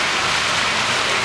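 Steady rain pours down at an outdoor bus stop, a dense continuous hiss filling the short moment with no voices.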